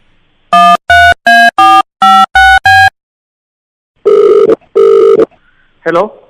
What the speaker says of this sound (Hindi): मैं मिथिलेश को फोन कर रहा हूँ।